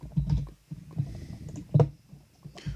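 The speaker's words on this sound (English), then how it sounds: "Let me just type it in quick." Typing on a computer keyboard: irregular bursts of close key clicks and presses, a few quick strokes with short pauses between, fairly clear and alone.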